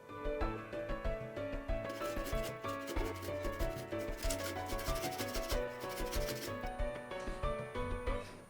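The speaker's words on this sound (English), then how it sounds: "Grate 1 tomato." A tomato is grated for a leek wrap recipe, producing continuous rasping strokes that sit under steady background music throughout.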